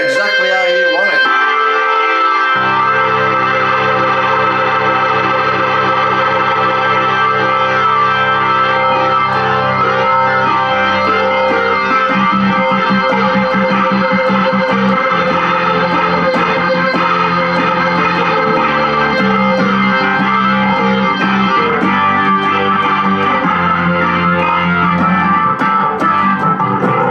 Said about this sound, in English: Fabulous organ sound there.